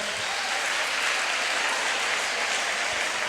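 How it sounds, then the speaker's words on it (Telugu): A classroom audience applauds steadily throughout a study session on facing examinations, the dense clapping loud and continuous with no talk over it. "ఒకసారి అందరూ ఒప్పుకున్నారు కాబట్టి చప్పట్లు కొట్టండి అందరి కోసం"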